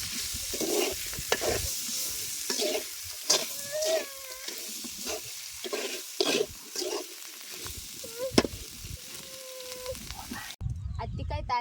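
Spoon scraping and stirring a spice tempering with crushed ingredients in a frying pan, with a soft sizzle underneath and a voice speaking over the cooking sounds.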